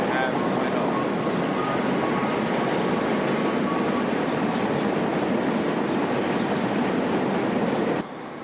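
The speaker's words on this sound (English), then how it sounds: "And here's our train." Northbound train pulls into a station with a loud, steady rushing roar and rumble of rail cars, constant throughout before dropping off abruptly near the end, with faint squeals over the noise.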